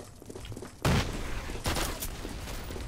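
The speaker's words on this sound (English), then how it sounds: "Watch out for that bazooka fire." Bazooka fire in the shooter game Karma Online erupts in two heavy blasts over a constant din of battlefield gunfire, loud and near, with no speech.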